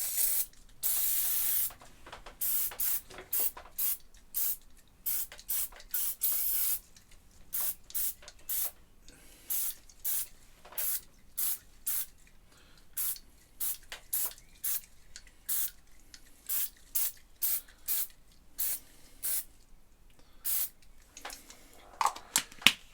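Label remover sprayed onto a Roland S-50 key bed during a restoration: a series of short, close aerosol hisses, some longer bursts early on and many quick spritzes after, with quiet pauses between and no talk.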